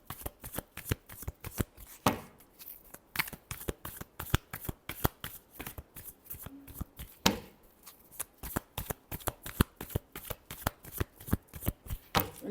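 Tarot cards shuffled by hand in quick riffling bursts, a dense run of crisp flicks and taps up close, steady and moderately loud with no talking.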